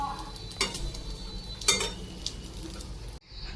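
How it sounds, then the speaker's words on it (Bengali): Spices fry in one pan while an egg omelette cooks in another, giving a soft, steady sizzle with a few light clicks and taps. The sound cuts off abruptly just before the end. "এখানে মশলা ভাজা বসিয়ে দিয়েছি আর ওখানে ডিমের অমলেট হচ্ছে"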